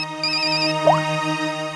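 A phone ringtone plays, a sustained electronic tone with a high repeating melody and a brief rising chirp, no voices present.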